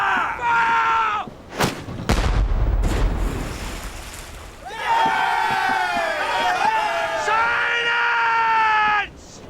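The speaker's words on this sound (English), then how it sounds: "Starboard bow chaser! Fire! Fire!" Bow chaser cannon on a sailing warship firing at sea in a naval drama: sharp booming blasts with a heavy rumbling tail, set among loud shouting voices and crowd cries.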